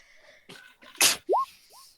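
A single sharp sneeze bursts out close up, followed by two quick squeaky rising sounds and a soft breathy background.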